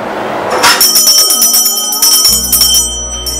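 A bell rings loudly with a rapid, shimmering series of metallic strikes, then settles into a sustained ringing tone. It sounds close and loud with no voices.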